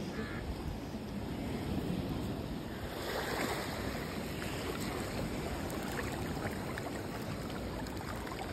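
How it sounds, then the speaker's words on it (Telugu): Ocean waves at high tide wash steadily onto a quiet beach in South Goa, a continuous hissing surf with gentle swells, moderately loud and unbroken by speech. "దట్ ఈస్ హై టైడ్ వచ్చిందనమాట"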